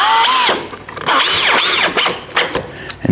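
A power drill drives screws into a wooden brace on a porch swing, loud and close, with two long whirring runs whose pitch climbs and drops, then short bursts at the end.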